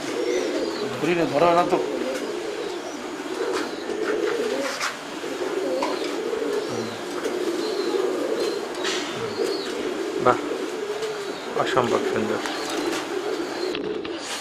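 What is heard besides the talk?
foreign-breed pigeons cooing (spangle, stencil, Andalusian racers)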